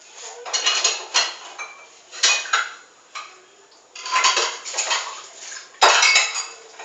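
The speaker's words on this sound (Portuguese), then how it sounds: "Tem que lavar a louça." Dishes and cutlery clatter and clink in a sink in irregular bursts, with a sharp knock near the end; no voices.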